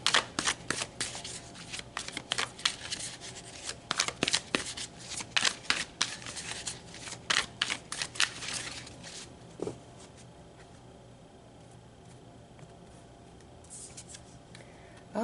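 Tarot cards being shuffled by hand, heard as a close, quick series of papery riffles and flicks in bursts, then fading to a quiet hush.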